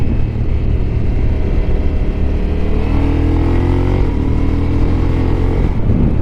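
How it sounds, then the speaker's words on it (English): A Honda NT1100 DCT motorcycle engine roars loudly and continuously up close, a deep throbbing rumble that rises in pitch as it revs. "the engine's got quite a nice little roar to it. It certainly sounds like a V-twin."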